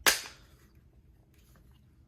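A Glock 17 Gen5 polymer magazine dropping free from the grip gives a single sharp, close clack at the start, then quiet handling noise.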